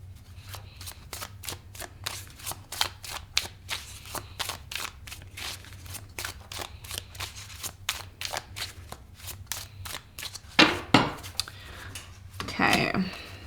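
Tarot cards being shuffled by hand in a steady run of crisp, rapid riffling flicks, close and fairly quiet over a low background hum, ending in a few louder ruffles and a final burst of shuffling.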